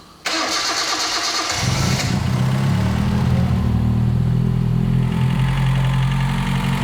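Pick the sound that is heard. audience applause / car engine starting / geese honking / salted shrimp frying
car engine starting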